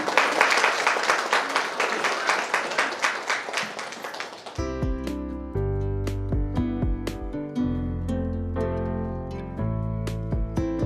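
Audience clapping at a haldi-kumkum gathering after a lamp-lighting, a dense burst of hand claps for about four seconds before instrumental music takes over with sustained tones.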